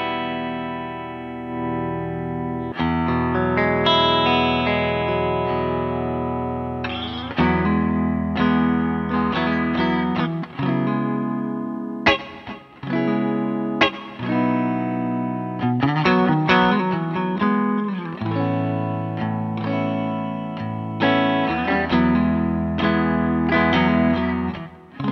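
An electric guitar with single-coil pickups plays through an amp simulator on a clean, near-breakup tone, strummed chords and picked phrases ringing with sustained decay for about twenty-five seconds, alone without talking.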